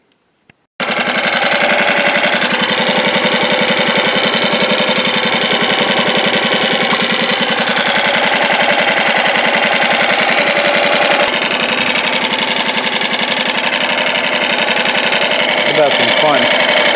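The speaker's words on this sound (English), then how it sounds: "Good running, old saw." A Farmertec MS660 clone chainsaw, modified and freshly assembled, runs steadily and loudly close by for the whole stretch after a brief start, its dense buzzing engine tone holding even throughout.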